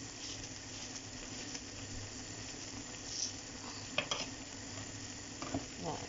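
Grated coconut stirred into spinach frying in a pan, with a steady low sizzle under scraping stirring strokes and a few light clinks of the utensil near the end.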